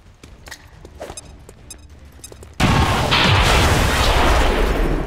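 An in-game vehicle blows up in XCOM 2: after a stretch of quiet ambient sound with faint taps, a sudden loud blast starts halfway through and rolls on as a dense, sustained roar with crackling debris.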